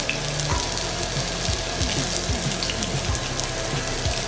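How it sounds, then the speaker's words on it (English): Pork chops sizzling in a skillet as they sear, a steady loud crackle and hiss close up, with faint clicks and knocks from handling the pan and no talking. "we're just going to lay these beautiful pork chops in the skillet and give them a nice brown. Sear them up nicely"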